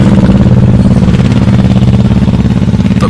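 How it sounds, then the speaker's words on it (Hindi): A motorcycle engine in a village as darkness falls chugs steadily and loudly up close in an even, rapid rhythm, with no voices. "अपनी मोटरसाइकिल पर बैठकर वहां से निकल गया था"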